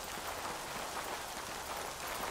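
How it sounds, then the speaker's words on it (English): Steady rain patters on surfaces in the video game Yonder: The Cloud Catcher Chronicles, a soft even hiss with no break and no voices. "Shelter from the rain."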